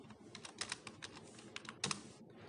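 Computer keyboard typed on while writing C# code, quick irregular keystrokes clicking close and fairly quiet, a short burst of tapping with small pauses between keys.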